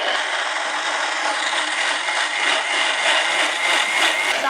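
An electric mixer grinder blends papaya for halwa in a kitchen cooking show, giving a loud, steady whirring grind that runs unbroken throughout.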